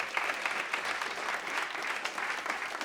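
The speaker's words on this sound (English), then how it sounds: "Let's give the round of applause." Steady, fairly faint round of audience applause at a tech conference, a continuous patter of many hands with no voices over it.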